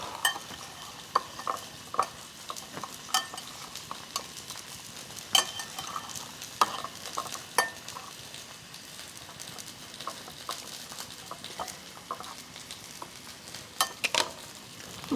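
A medium onion sizzles gently in a pan in a hotel room while a utensil scrapes and stirs it, soft irregular clicks and pattering over a steady quiet fry.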